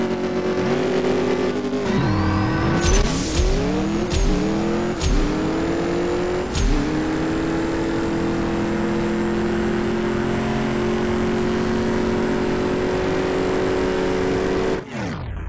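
A race car in the CSR Racing 2 mobile game accelerates hard through several rapid upshifts, its engine rising and dropping in pitch at each shift before holding a long, loud, steady high whine.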